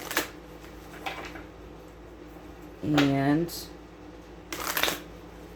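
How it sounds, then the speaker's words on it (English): Tarot cards being shuffled in a few short riffled bursts, close and crisp, with a brief spoken word in between. "I'm going to shuffle them 2 more times."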